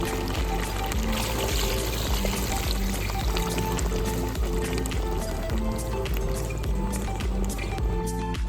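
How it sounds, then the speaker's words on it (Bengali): Water pours steadily into chicken curry in a pan to make the gravy, a continuous close splashing gush that runs the whole time without pause. "এবার পরিমাণ মতো জল দিয়ে ঝোলটা বানিয়ে নিচ্ছি।"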